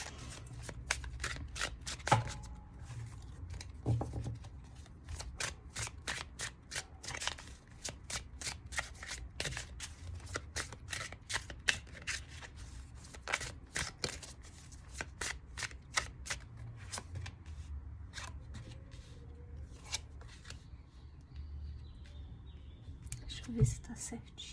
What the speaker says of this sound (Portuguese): Vamos colocar as cartas aqui assim, para embaralhar direitinho